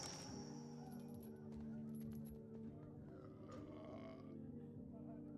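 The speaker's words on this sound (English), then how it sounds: "This dude keeps burping. It's so nasty sounding" A game character in Pillars of Eternity II: Deadfire burps repeatedly: low, quiet grunting eructations over steady in-game music and ambience.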